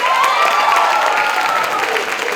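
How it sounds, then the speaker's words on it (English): An audience applauds the young cast of a school stage production of The Wizard of Oz, a dense, steady wash of clapping with scattered cheers lasting the whole stretch, close and loud. "So clap for these kids, I'm so proud of them."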